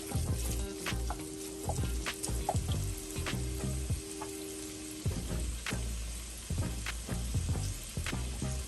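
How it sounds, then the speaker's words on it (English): Collard greens sizzle and crackle as they cook down in a hot pan, a continuous close frying hiss broken by scraping and stirring knocks. "We're going to go ahead and cook them until they're nice and soft and brown a little bit"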